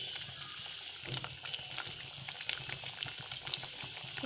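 Stew bubbles in a pot on a stove in a soft, steady simmer, with faint popping and patter throughout and nobody talking.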